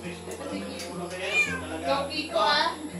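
A pet cat named Tiko meows several times at close range, its short cries rising over people talking and a low background hum.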